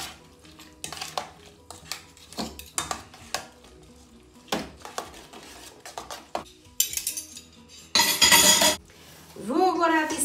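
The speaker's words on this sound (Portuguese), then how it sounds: "Vou envolver todos os ingredientes com 2 colheres." Veal with its seasoning ingredients being mixed by hand with two spoons in a bowl, giving repeated clinks and scrapes of metal on dishware, irregular and close, ending in a louder burst of clattering.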